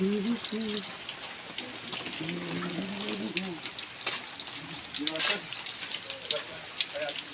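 Rain patters steadily on surfaces outdoors near a village home, a soft, constant hiss with occasional louder drips, while people talk over it intermittently.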